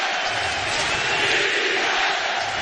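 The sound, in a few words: basketball arena crowd cheering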